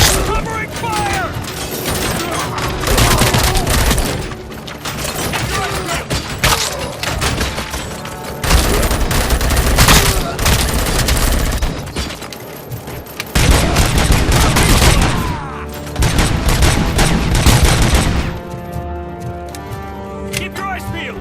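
Gunfire in the video game RoboCop: Rogue City: loud, dense bursts of shots and booms run almost continuously, mixed with shouting game voices and a dramatic score.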